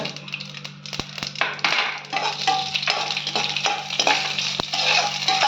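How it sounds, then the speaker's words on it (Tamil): Mustard seeds and cashews frying in hot oil in a pan, a steady crackling sizzle with occasional sharp pops and stirring clinks, close and moderately loud, without talk. "கடுகு போட்டுக்கலாம் முந்திரி போட்டுக்கோங்க"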